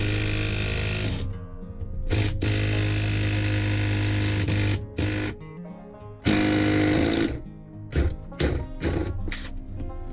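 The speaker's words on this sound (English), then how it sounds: "Even the impact gun struggled removing the second bolt." An impact gun with a 14 mm socket struggles to remove a bolt, loud close bursts of hammering rattle that stop and start several times with short pauses between.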